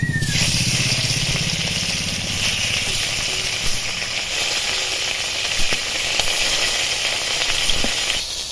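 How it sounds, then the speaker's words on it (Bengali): Fish fry in hot oil in a pan with a steady, loud sizzle and hiss that runs continuously, with a few soft clatters near the start and end. "মাছগুলো খুব ভালো করে ভেজে নিয়েছি এবার তুলে নিচ্ছি এবার বাকি মাছগুলো ভেজে নেব"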